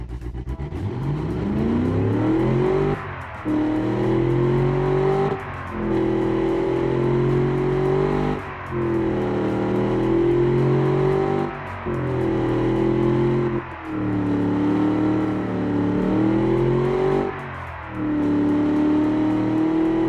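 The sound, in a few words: 4.6L car engine revving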